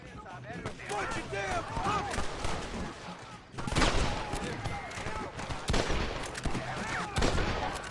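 Gunfire in the Red Dead Redemption video game: sharp, loud shots and bursts cluster in dense volleys near the middle and end of the stretch, over a constant busy background of other game noise.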